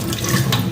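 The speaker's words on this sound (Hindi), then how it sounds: "ये राइस को मैंने इधर ऑलरेडी जो ना वो सोक किया हुआ, तो इसका पानी जो ना वो आप लोगों ने स्टेन कर देना है।" Water strains off soaked rice in a close, continuous splashing pour, steady and fairly loud throughout the short moment.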